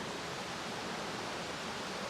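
Dense, even rush of cascading water and a flowing river by a waterfall, a steady wash of noise with no voices.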